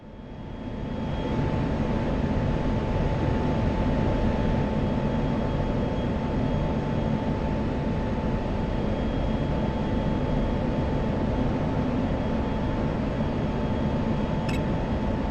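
An F-16C fighter jet passes overhead in a flight simulator, heard as a loud, steady roaring engine wash with a faint high whine that holds level for about fifteen seconds after a quick swell at the start.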